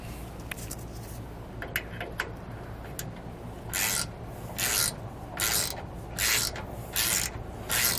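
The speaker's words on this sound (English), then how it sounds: "to tighten these down, I am using a 7/32 hex bit" Bolts are tightened with a 7/32 hex bit on a Thule ladder rack cantilever extension, giving a few light clicks followed by a series of evenly spaced, rhythmic whirring bursts from the driver, close and quiet.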